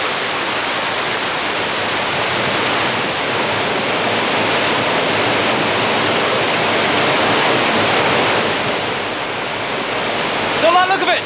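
Rushing flood water pours steadily against a mill dam, a loud, continuous broadband roar that fills the whole stretch, with a brief voice-like sound at the very end.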